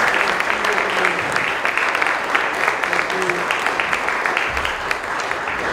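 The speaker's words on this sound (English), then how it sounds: "And then we want to a round of applause for the team that supported us and the chef." A conference audience at a crypto regulation masterclass in Lisbon applauds the supporting team and chef, giving a dense, steady round of clapping that fills the room for several seconds.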